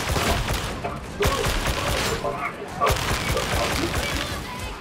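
Dense bursts of gunfire in Warhammer 40k: Darktide, a Veteran Sharpshooter firing: loud, close volleys of rapid shots with sharp onsets around one and three seconds, booming impacts among them and a continuous clatter throughout.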